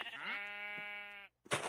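A sheep in a video game, about to be sheared for wool, lets out one long, sustained bleat that stops abruptly, followed after a short gap by a burst of noisy rustle.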